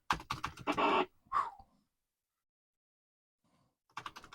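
Keys clatter on a Commodore 64 keyboard in a quick burst of clicks, then a long pause before another run of close typing.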